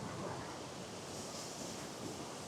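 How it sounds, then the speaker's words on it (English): River water rushes down an S-shaped cascade over sandstone slabs in the Slieve Bloom Mountains, a dense, continuous broadband roar with light wind buffeting, steady and close with no voices. "I'm sort of liking the speed of the water here today."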